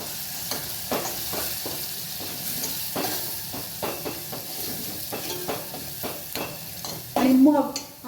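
Ground masala paste being sautéed in a pan for a Maharashtrian urad dal dish, giving a steady soft sizzle with repeated scraping stirs of the spatula and a louder burst near the end.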